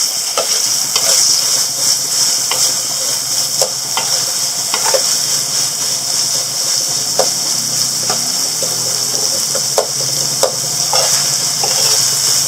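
Onions frying in oil for sambal tumis, a loud, steady hiss and sizzle with occasional soft ticks and pops scattered through it, close by and without speech.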